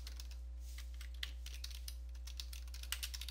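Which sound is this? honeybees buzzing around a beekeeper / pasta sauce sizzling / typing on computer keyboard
typing on computer keyboard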